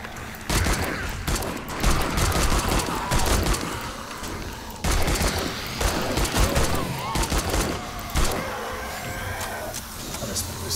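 Gunfire in 7 Days to Die, a zombie survival game, with rapid, dense bursts of loud shots crackling almost continuously amid chaotic game noise and occasional talk.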